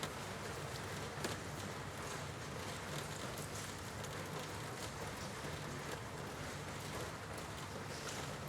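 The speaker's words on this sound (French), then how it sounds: "reste en même temps focalisée sur cette pluie qui tombe" Rain falls in an even, continuous wash with a low rumbling undertone, a soft steady patter that carries on without a break and with no voices.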